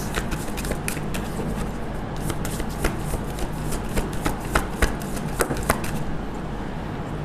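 Tarot cards being shuffled up close, a steady stream of crisp riffling flicks and soft slaps repeating throughout, no talking.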